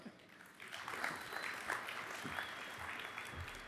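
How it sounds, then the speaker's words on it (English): Audience applause for a speaker at a lightning-talk session, a moderately quiet, steady patter of many hands clapping with some crowd murmur and faint voices mixed in. "A round of applause for him."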